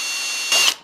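Drill-mounted stirrer mixing wood stain with a little water added on the surface: a steady mechanical whir with a tonal hum, then a short, louder churning burst near the end of the brief moment.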